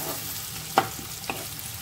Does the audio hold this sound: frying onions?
yes